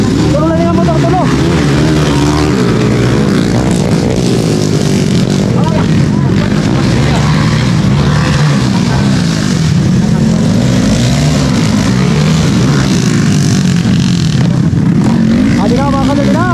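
Several motorcycles race laps on a flat dirt track at a barangay championship open-category event in Burauen, Leyte, engines droning loudly and continuously while an announcer talks excitedly over the din.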